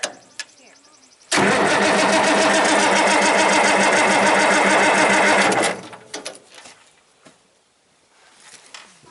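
A 1963 Oliver 1600 diesel tractor engine cranks and catches abruptly, running loud and rough for about four seconds before cutting off, followed by quieter clicks and handling noises nearby.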